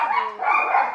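A dog gives a single short bark, close and loud, lasting under a second.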